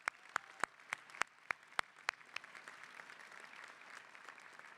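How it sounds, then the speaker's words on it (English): Scattered audience clapping at a university convocation: a few loud, evenly spaced claps up close, then softer, denser applause spreading through the hall and fading. "Give yourselves a round of applause."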